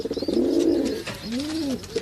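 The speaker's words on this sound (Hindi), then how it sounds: "ये बहुत अच्छा टैडी कबूतर है" Low, throaty teddy pigeon cooing in two rolling phrases, close by, over a steady background hiss.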